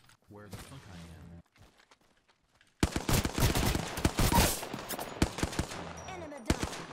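Gunfire from a weapon in Apex Legends: a quiet stretch with murmured voices, then sudden loud, dense bursts of rapid shots from about three seconds on, rattling continuously with sharp cracks and a final punctuating blast.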